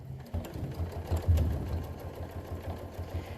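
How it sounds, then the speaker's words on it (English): Home sewing machine stitching slowly during free-motion bobbin work on a quilting project, a low steady mechanical hum with soft rhythmic needle thumps, fairly quiet and close, no talking. "I'll just slow down the machine a little."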